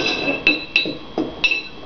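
A spoon clinks against a glass jar while stirring alum into water, four or five light, ringing taps at an uneven pace, close by.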